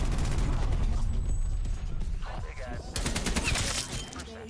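An AK-47 fires in the video game Call of Duty: Black Ops Cold War, heard as loud, rapid automatic bursts over a busy game mix, with a sharp run of fast shots toward the end.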